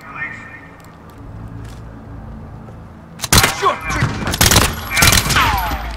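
Machine gun fire in Call of Duty Modern Warfare bursts in loud, close rapid volleys after a quieter stretch of ambient noise, with several sharp clusters of shots.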